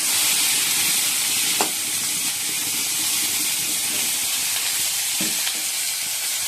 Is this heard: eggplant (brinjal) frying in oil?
yes